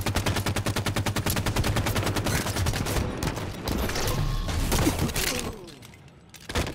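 Rapid bursts of battle rifle fire in Halo 5 with dense, loud rhythmic shots that dominate the first half, then looser scattered blasts and a brief crash.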